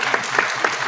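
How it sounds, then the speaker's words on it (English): Audience applause in a law school setting, a dense continuous wash of clapping from many hands with a few sharper peaks, steady and close throughout the short burst. "Here, you can clap."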